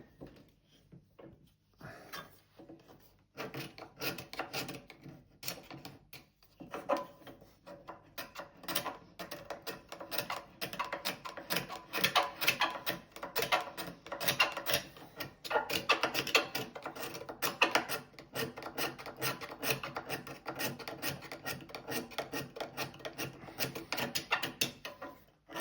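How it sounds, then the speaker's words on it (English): A big scraper worked across a wooden plane, giving rapid rasping strokes in steady repeated runs, close and fairly quiet. "what I can get at with the big scraper"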